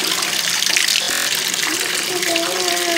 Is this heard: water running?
yes